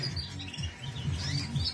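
Norwich canary hybrids singing in a shed bird room during breeding conditioning, faint thin chirps and warbles scattered over a low background rumble, with no voices.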